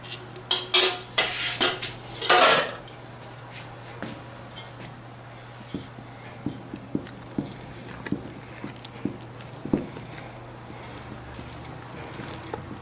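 Spoon scraping and clinking against a bowl while bran muffin batter with coconut oil and blackstrap molasses is stirred, a few loud clattering knocks early, then a steady run of light, separate taps over a low steady hum.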